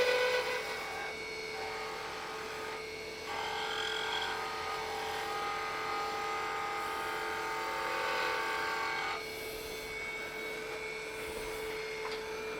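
Wood lathe spinning a honey dipper blank while a skew chisel evens the surface, a steady whirring motor hum with faint cutting changes partway through, no voices over it.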